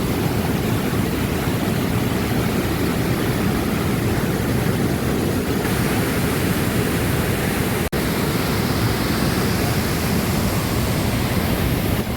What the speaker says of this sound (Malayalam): സീതാർകുണ്ട് വെള്ളച്ചാട്ടത്തിൻ്റെ മനോഹരമായ കാഴ്ചകളാണ് നമ്മൾ ഈ കാണുന്നത്